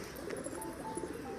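Soft, repeated cooing from a newly bought market pigeon held close by, steady low murmuring calls running through the short stretch without talk.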